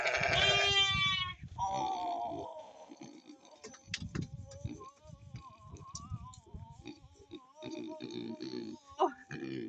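Sheep and goats on a farm bleating close by, a loud drawn-out bleat followed by several wavering calls and grunts, with quieter shuffling and brief noises between them.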